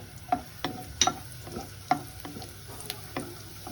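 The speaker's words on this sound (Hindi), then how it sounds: "ये हमारा बटर जो है ये ऑलमोस्ट हो गया है गर्म। तो अब मैं इसके अंदर से ये लहसुन डाल रही हूँ।" Garlic frying in hot butter in a pan, a quiet close sizzle with soft scraping taps from stirring.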